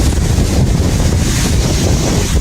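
Strong wind buffets the microphone in a constant loud roar, broadband and rumbling, with nothing else standing out, in palmetto groves at Crystal River.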